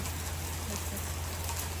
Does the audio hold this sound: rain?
yes